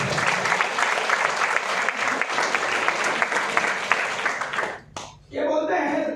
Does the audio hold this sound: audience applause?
yes